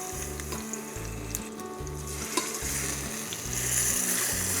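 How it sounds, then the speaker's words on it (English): Chicken thighs sizzle skin down in a hot pot, a continuous crackling fry close up with a low rhythmic pulsing underneath and a brief clink partway through. "Oh man, I love the sizzling."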